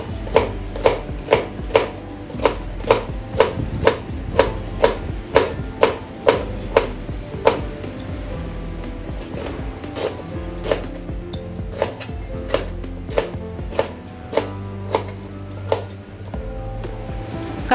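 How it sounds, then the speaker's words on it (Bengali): A knife cuts through okra on a cutting board in sharp, evenly spaced chops, about one a second, steady and close. "কাটা হয়ে গেছে ঢেঁড়স।"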